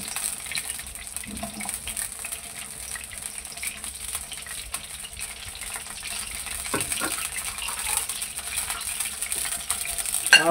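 Sliced okra (bhindi) frying in hot oil for a masala bhindi dish, a steady faint sizzling hiss with occasional light clinks and stirring scrapes.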